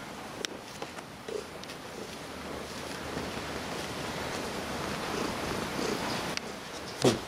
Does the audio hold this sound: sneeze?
no